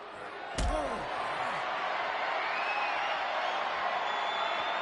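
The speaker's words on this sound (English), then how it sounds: "Showing his power, Alabama Slam." A sharp, heavy slam impact from an Alabama Slam wrestling move in WWE 2K25 lands once, loud and near, over a steady roar of arena crowd noise that continues afterward.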